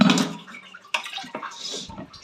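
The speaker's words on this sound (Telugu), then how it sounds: "ఇందులో ఒక చిన్న టీ గ్లాస్ వాటర్ అయితే వేసుకోవాలి" A small tea glass of water poured into a pan of sugar on the stove to make syrup, heard as a short, close splashing pour with a few light clinks.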